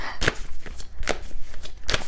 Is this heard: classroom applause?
no